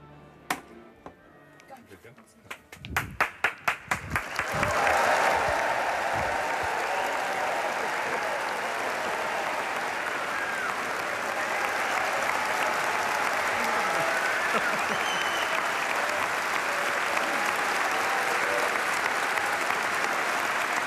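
A large audience applauds at the Sydney Opera House as performers walk onstage, a few scattered claps building quickly into loud, sustained, dense clapping that holds steady to the end.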